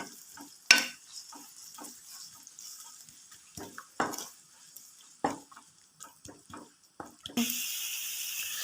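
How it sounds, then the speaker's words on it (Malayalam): Gobi manchurian sauce stirred in a frying pan, a soft sizzle under scattered spoon scrapes and taps, swelling into a louder hiss near the end. "ഒരു ബ്രൗൺ കളർ ആവുന്ന വരെ നമ്മൾ നന്നായിട്ട് മിക്സ് ചെയ്യണം"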